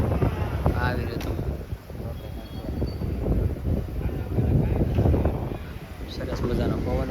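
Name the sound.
wind blowing outdoors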